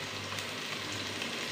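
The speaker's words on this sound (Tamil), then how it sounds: "நல்லா வந்து வதக்கி விடலாம் நல்லா கோல்டன் பிரவுன் வர வரைக்கும் நல்லா வெயிட் பண்ணுங்க" Onions sauté in a pan for vegetable biryani, giving a steady, even sizzle throughout with no voices.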